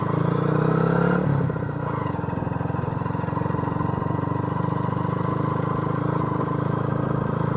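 A Honda CBF125 motorcycle pulls away on the road after a downshift to first, its small single-cylinder engine giving a close, steady buzzing drone that drops in pitch after about a second and carries on evenly to the end.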